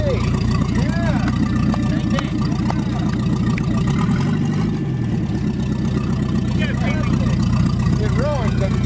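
A 1938 Buick Special engine runs steadily just after start-up, a loud continuous low rumble near the microphone, with people talking over it.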